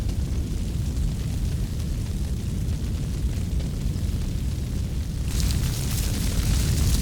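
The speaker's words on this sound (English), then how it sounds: "The old heather is being put to the torch to stimulate new growth for the grouse season." Old heather burning across Cairngorm moorland in late March gives a steady, dense roar of fire, rumbling and crackling throughout and swelling louder and brighter near the end.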